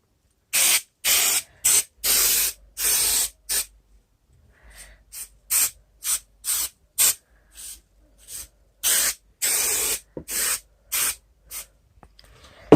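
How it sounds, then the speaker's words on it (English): Upholstery spray glue is sprayed from an aerosol can onto a frame for an acoustic panel, coming in a long series of sharp hissing bursts, some long and loud, others short and fainter, with brief silent gaps between them. "Okay, so I'm using this upholstery spray glue initially."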